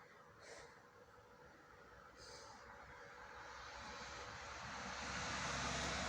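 An E6013 3/32-inch stick welding rod runs horizontally on 1/4-inch steel plate, producing a steady, faint crackling hiss that builds gradually in loudness, with a couple of brief high tones early on.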